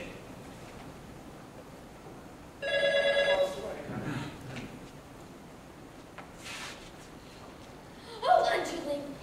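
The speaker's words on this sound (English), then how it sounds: "I don't want this number ruined by a ringing telephone." A telephone bell rings in one short burst of about a second during a stage performance of The Drowsy Chaperone, with faint voices and room noise before and after.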